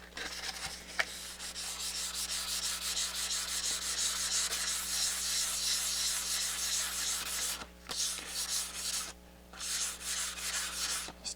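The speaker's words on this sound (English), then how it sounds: "let's just try a little bit of wet sanding here" Wet sanding a Technics SL-7 turntable part using glass cleaner as lubricant, a rapid rhythmic scrubbing rasp close up that runs steadily, then breaks into short pauses near the end.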